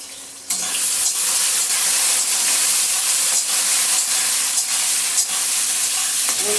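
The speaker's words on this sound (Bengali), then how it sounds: "লতিটাকে একটু ভেজে তুলে নেব" Taro stolons, boiled earlier with salt, fry with turmeric in a pan, giving a steady, close, hissing sizzle that starts abruptly and runs on evenly without any voices.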